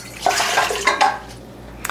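Water, one and a half cups, splashes and pours briefly into a mixer bowl, a close, bright gurgling rush that tapers off after a second or so.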